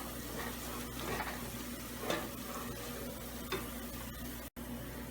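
Chopped onion frying in a pan on medium heat, a steady close sizzle with occasional scraping stirs of a spoon across the pan, no voices.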